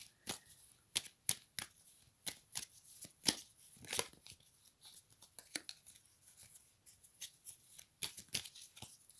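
Tarot cards being shuffled by hand, a rapid series of crisp riffling and slapping bursts close by, irregular in rhythm, with no talk.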